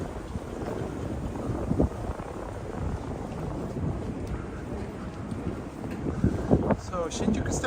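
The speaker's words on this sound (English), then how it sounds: "It's a bit windy today too." Wind gusts buffet the microphone on a Tokyo street near Shinjuku, a continuous rough low rumble that swells and dips, with faint street sounds beneath.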